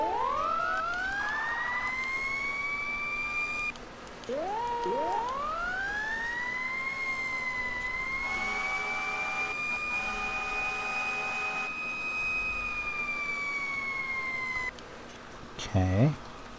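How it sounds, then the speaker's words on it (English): Wailing fire engine sirens from a Farming Simulator 17 fire truck rise and sustain in long sweeps, restarting twice with a brief break, loud and close, ending with a short burst of a different tone. "Sirens."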